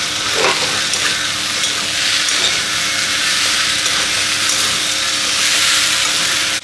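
Loud, steady sizzling and crackling from a frying pan as water is added to fried spices for a prawn and fish-head muri ghonto dish, filling the clip with no talk.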